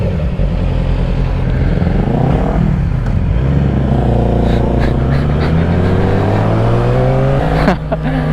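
Sport motorcycle, a Ninja 400 or R6, pulls away in first gear on a mountain ride, its loud engine note climbing steadily in pitch throughout under steady road roar, with a brief dip near the middle.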